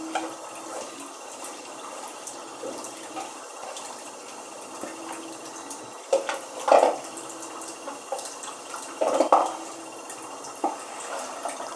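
Water is poured and drained off soaked moong dal in a home kitchen, with a steady trickle and occasional louder splashes and drips near the middle and end.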